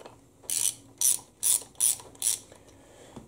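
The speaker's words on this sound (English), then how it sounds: "I need to get this parking pawl out of the way" Parking pawl being worked out of a 2002 Lexus RX300 U140 automatic transmission during disassembly: five sharp metallic clicks and scrapes in a steady rhythm, close up, no talking.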